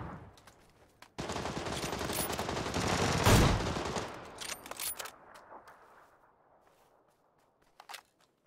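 Gunfire from the PUBG video game: a sustained burst of rapid automatic shots, loud and close, fades out after a few seconds, followed by a couple of faint isolated shots.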